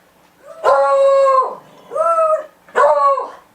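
Several dogs howl and bark at a cabin in the mountains, giving three loud, drawn-out howling bursts close by, with short pauses between them.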